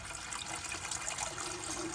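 Water trickles and splashes steadily out of an old El Camino motor that has sat in the dirt for 36 years, a continuous close-up dribble with no talking.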